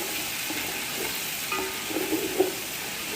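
Onion, ginger and garlic frying in a pan for mushroom pulao, a soft steady sizzle with a few light stirring clinks, fairly quiet and without voices.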